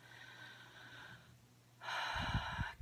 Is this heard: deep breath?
yes